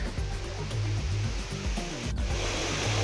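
Holfossen waterfall in Norway roars as a steady broadband rush of falling water heard up close, with a low rumble and faint motion sounds over the top, continuous for a few seconds.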